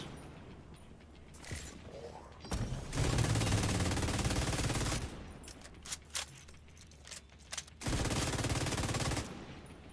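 A mounted gun turret fires in Division 2 in long, loud automatic bursts that start and stop, with near gunfire and someone talking between the volleys.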